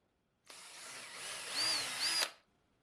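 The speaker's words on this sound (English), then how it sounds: "we can take another Makita trim router and remove those tabs, drill a couple holes" A short burst of a high-pitched Makita trim router cutting plywood for about two seconds, close and fairly loud, with a rising whine near the end.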